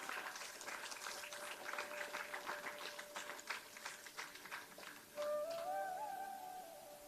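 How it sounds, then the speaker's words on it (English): An audience claps at a business conference inauguration, a faint, fairly distant patter of many hands, followed by a thin whistling tone that rises over the fading applause near the end. "Round of applause."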